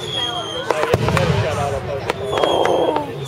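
Fireworks burst during a 2010 display in Richmond, with several sharp bangs and crackling trails close by while people talk and react in the foreground.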